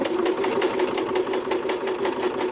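A sewing machine stitches through cardboard in a fast, even mechanical whirr with a regular rapid needle beat, close and loud, running continuously.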